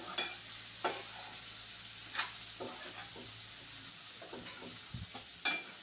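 Potatoes being added to a pan for sabudana khichdi, with a quiet, steady frying sizzle under scattered sharp clatters and scrapes of stirring.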